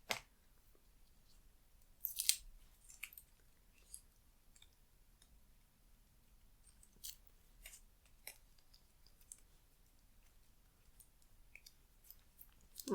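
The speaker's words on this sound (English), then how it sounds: "I'm just going to use the scissors to cut down the piece of paper" Several quiet, scattered snips and crisp paper rustles, close by, with soft handling noises between cuts and no talking.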